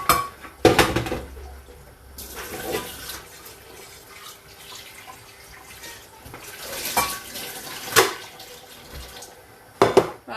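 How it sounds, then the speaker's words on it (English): Cooked brown rice drained in a kitchen sink, with water splashing and pouring alongside clattering pots and pans, a few sharp knocks and bangs over a steady running-water wash. "drain the rice."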